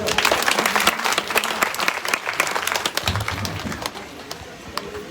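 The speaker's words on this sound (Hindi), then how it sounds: "एक बार इनके परिवार के लिए ताली तो बजाओ।" Scattered clapping from a crowd at a Bhagavat Katha religious gathering in Himachal, a steady patter of hand claps lasting several seconds, fading slightly toward the end.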